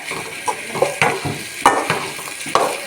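Semolina roasting in a pan with grated green banana, a spoon stirring and scraping in repeated strokes while a soft frying sizzle runs underneath, close and moderately loud.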